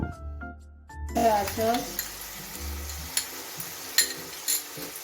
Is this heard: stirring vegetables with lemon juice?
yes